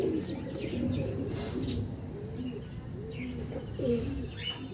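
Andhra pigeons in a collection give soft, low, rolling coos, several phrases in a row, close by and fairly quiet over a faint room hum.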